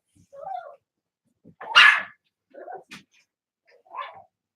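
Several dogs bark and yip in short separate bursts, one louder sharp bark in the middle, fairly close with quiet gaps between.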